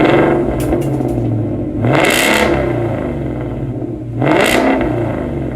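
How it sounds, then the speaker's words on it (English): A loud Ford Mustang engine with a Magnaflow Xmod aftermarket exhaust and no mid muffler idles with a deep rumble, then revs sharply twice, each surge rising and falling back to a burbling idle. "It sounds really good at startup, but we'll give the thing a couple of revs, let you hear it."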